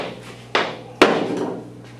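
A hammer strikes twice in quick succession while mower blades are being changed on a Rankin 60-inch mower, each blow a sharp, close metallic knock with a short ringing decay.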